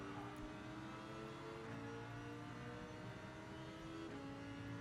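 Lamborghini race car engine in Gran Turismo 7 at Circuit de Barcelona-Catalunya, a loud, steady, high-revving drone with shifting pitch that holds for the whole stretch, with no talking over it.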